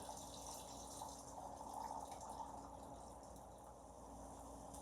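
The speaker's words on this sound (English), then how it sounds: "I'm going to take some of this shrimp stock and I'm going to pour it right inside of my pot here" Shrimp stock pours into a cooking pot in a faint steady liquid trickle that runs on without a break.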